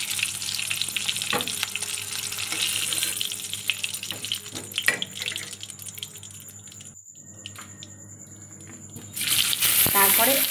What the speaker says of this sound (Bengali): তারপরে ওই তেলের ভেতর আবার আলুগুলো দিয়ে আর একটু নেড়ে নেব আলুটা